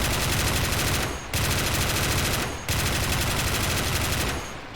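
Dense, loud rapid gunfire fills a beach battle in Army Men Beach Defence Battle Simulator, a continuous roar of shots broken by two brief lulls, with no talk over it.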